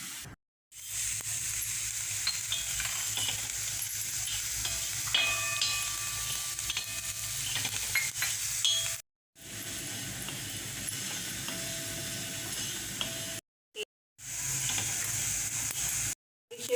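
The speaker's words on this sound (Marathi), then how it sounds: "हे सगळे सुके मसाले मी सगळे वेगवेगळे करून भाजून घेणार आहे." Whole dry spices roasting in a pan without oil give a continuous bright sizzle with occasional stirring and scraping, broken by a few short silences.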